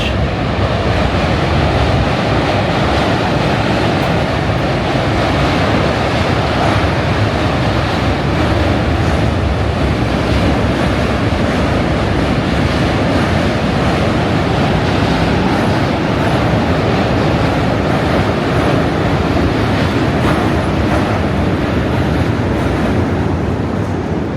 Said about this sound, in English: It's actually the subway going over the Manhattan Bridge.